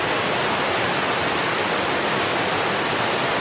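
Steady, loud roar of rushing water close to a rappel descent, a dense broadband wash that holds unbroken with no voices over it.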